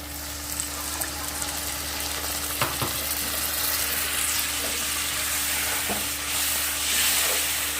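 Masala for Kashmiri shahi paneer frying in a pan, a steady broadband sizzle with occasional stirring scrapes and clinks, continuous and close, with no voices.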